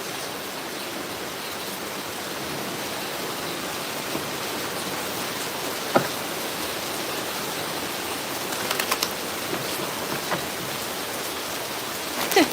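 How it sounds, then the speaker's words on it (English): Heavy rain pours down steadily, a dense, even hiss of drops with a few louder splats and taps standing out against the constant downpour. "Just started raining again so hard."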